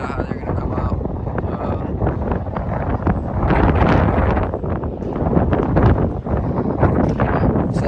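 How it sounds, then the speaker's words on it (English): Wind buffets the microphone outdoors at a scenic spot, a loud, gusty rumble that swells and eases, with a person talking intermittently underneath. "We got a little bit too windy."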